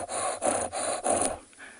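A person imitates a leopard's sawing call with rasping, breathy strokes, about five rhythmic in-and-out rasps close up, then a quiet pause.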